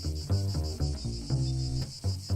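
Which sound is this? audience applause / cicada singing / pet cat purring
cicada singing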